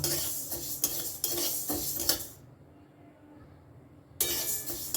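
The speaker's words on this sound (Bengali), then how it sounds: "এখনও এটা পুরোপুরি ভাজা হয়নি আর একটু সময় লাগবে এটা ভাজতে" Mung dal being fried and stirred in a pan, with several sharp scraping strokes of a utensil against the metal, then a quieter stretch of soft sizzling before scraping resumes near the end.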